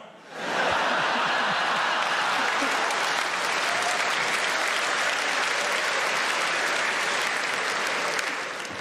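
Sustained audience applause at a comedy show, a dense, steady wash of clapping that swells in quickly and holds loud throughout, with a few scattered chuckles mixed in.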